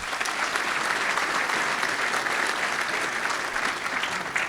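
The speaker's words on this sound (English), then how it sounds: "So once again, to them, round of applause" A hotel meeting room audience in Inishowen gives a round of applause for politicians, dense, even clapping that fills the room at a steady level from start to finish.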